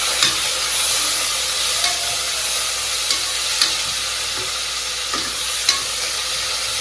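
Tomatoes and coriander sizzle steadily in hot oil for a biryani masala, a constant frying hiss broken by occasional spoon scrapes and taps against the pan.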